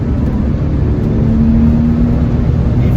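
A Porsche 996 flat-six engine drones loudly and steadily, a dense low roar with a tone that slowly climbs and holds, no talking.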